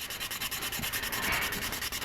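Wet sandpaper rubs over primer on a 1/72 scale Sinanju model kit part, a soft rhythmic back-and-forth scrubbing with quick regular strokes, close and fairly quiet.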